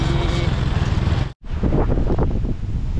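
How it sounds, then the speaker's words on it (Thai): Gusty wind buffets the microphone outdoors before rain, a loud broadband roar that cuts out briefly midway and then resumes with rushing gusts. "โอ้ตอนนี้มีลมบางแหงมา"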